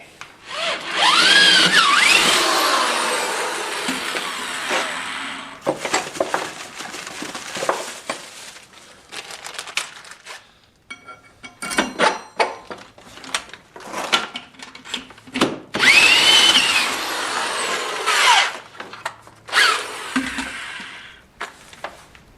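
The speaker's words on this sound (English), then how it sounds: "I'm going to drill the holes through the bench" A power drill bores holes through a wooden bench while mounting a Vevor mini lathe, two long loud whining drilling runs at close range, separated by a stretch of clattering, handling noise and short bursts.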